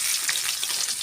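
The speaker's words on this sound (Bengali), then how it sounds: "এই যে আমার মাছ ভাজা হয়ে গেছে" Pomfret fish fries in a pan with a bright, crackling sizzle, close and continuous over a short stretch with no voices.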